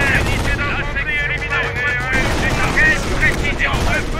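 Rapid gunfire and battle clatter from the World War II strategy game Company of Heroes, a dense, continuous barrage of shots and explosions with shouted voices over it throughout.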